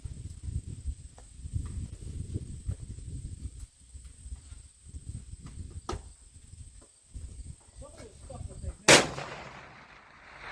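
A Remington 700 BDL rifle firing cast bullets at a 500-meter range gives one sharp, loud crack near the end, after stretches of quiet outdoor background with faint distant sounds.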